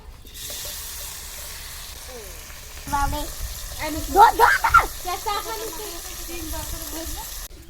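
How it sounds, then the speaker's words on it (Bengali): Small chuno fish drop into hot oil in a wok, and a steady background hiss breaks into a louder, crackling sizzle with bursts of spitting once the fish go in. "তেল গরম হয়ে গেছে, তেলের মধ্যে মাছগুলো দিয়ে দেবো আর ভেজে নেবো।"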